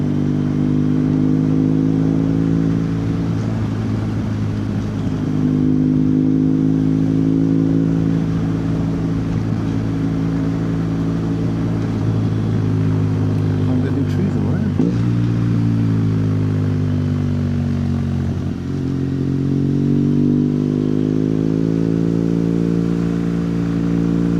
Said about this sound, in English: you hear the bikes every Sunday